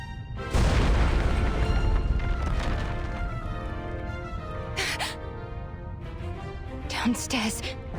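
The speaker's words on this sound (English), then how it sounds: "Is that an explosion?" A loud, deep explosion in the video game Reverse 1999 bursts in suddenly and keeps rumbling, then settles into a lower roar with brief bright swells over a layered game soundtrack.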